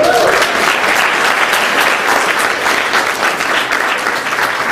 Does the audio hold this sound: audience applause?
yes